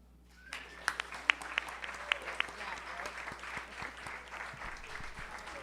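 Applause from an audience after a spoken-word poem performance at a live arts event, fairly faint and distant, with a few sharper nearby claps standing out early and a bit of crowd murmur underneath.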